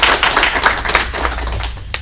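Applause from a seminar audience at Gen Con 2014, brisk clapping that fades after about two seconds, with a final sharp clap near the end.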